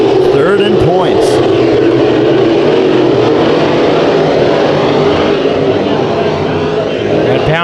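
Race cars roar together during a heat race at Bakersfield Speedway, a loud continuous engine drone with shifting pitch and passing revs, a commentator talking over the noise throughout.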